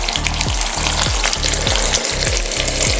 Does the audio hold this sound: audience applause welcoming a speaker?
no